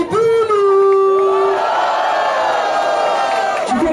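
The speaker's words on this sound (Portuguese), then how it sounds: "Barulho pra quem gostou das rimas de Pires e Bruno" A live crowd at a Brazilian rap battle roars and whoops loudly, with a high sustained shout at the start, then a dense wash of cheering that continues to the end.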